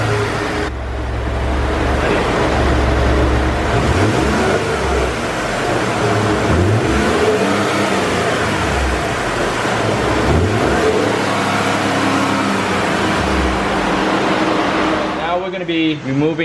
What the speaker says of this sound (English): we're gonna be starting up the engine and showing you what the engine sounds like with the stock intake